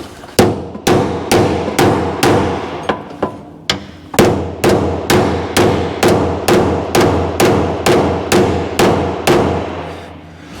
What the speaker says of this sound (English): because we're hammering on that bolt, the jarring action is actually helping to shake loose